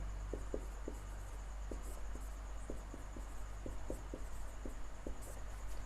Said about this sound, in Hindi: हम पहला डेफिनेशन यहाँ पे लिख दे रहे हैं